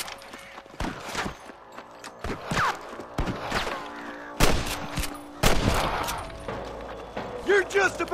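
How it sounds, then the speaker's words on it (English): Gunfire in the Western video game Red Dead Redemption, with sharp shots and bursts scattered through the stretch, some close and loud, amid game noise and mechanical clatter. "I hear more gunshots"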